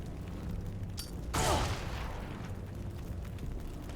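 Grenade blast in Xenonauts 2, a single loud booming burst with a noisy crackling tail that fades over about a second, over a low steady background hum.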